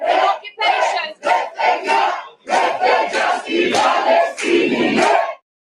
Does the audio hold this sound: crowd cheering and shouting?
yes